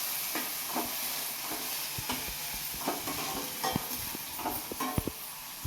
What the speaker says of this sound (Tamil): சில்வர் பாத்திரத்தில் இது பண்ணுறப்ப அந்த சவுண்டு ஒரு மாதிரி இருக்கு அப்படின்ட்டு அதனால் மெல்லமாக கலந்து விடுறேன்